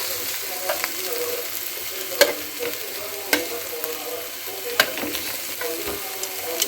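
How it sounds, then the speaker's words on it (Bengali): Mushrooms fry in a pan with a continuous close sizzle, broken by sharp clinks and scrapes of a spatula stirring every second or so. "ভাজাটা আমার প্রায় হয়ে এসছে, আর একটু সামান্য টাইম দিলেই হয়ে যাবে।"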